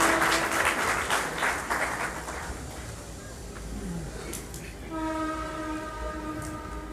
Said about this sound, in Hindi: जोरदार ताली बजाकर आप उनका स्वागत कीजिए।